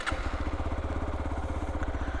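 A Hero Xpulse 200 4V motorcycle single-cylinder engine runs close by in an even, rapid thumping idle with a short click right at the start, and nobody talks over it.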